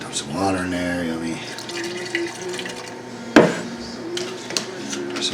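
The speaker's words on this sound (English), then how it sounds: "Dump some water in there" Water is dumped into a pot already holding pickle juice, a jalapeno and vegetable oil, a splashing pour with a sharp clunk partway through; a voice is briefly heard at the start.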